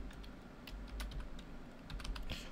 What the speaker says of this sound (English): I'm going to type in the name again.